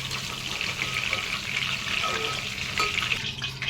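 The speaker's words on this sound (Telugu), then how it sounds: "సో ఇట్లా మంచిగా ఆయిల్లో ఫ్రై చేసుకున్నాం నల్ల వంకాయలు" Black eggplants frying in hot oil give a steady, dense sizzle with soft crackles and bubbling, close up and continuous, and a faint metallic clink near the end; no talking.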